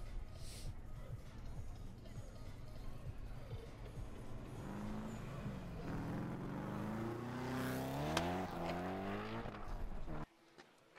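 Drift car warming up at the start line of a drift competition in Minsk, engine revving and rising in pitch at a distance, under crowd noise and a commentator's voice, then cutting off abruptly near the end.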